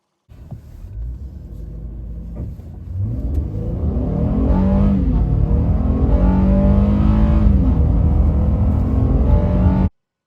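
A 2025 Honda Ridgeline's 3.5-liter V6 revs up hard toward 6,000 RPM, its pitch climbing steadily and holding a loud, sustained roar for several seconds with no talking.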